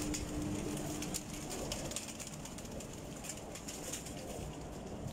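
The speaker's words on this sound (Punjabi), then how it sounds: "ਲਓ ਦੋਸਤੋ, ਹੁਣ ਬਾਹਰ ਕੱਢੇ ਪਰਿੰਦੇ ਤੁਹਾਨੂੰ ਮੈਂ ਦਿਖਾ ਰਿਹਾ ਜੀ।" Loft pigeons belonging to a pigeon-flying club in Faisalabad coo softly and steadily against a constant broadband background hiss. There is no talking.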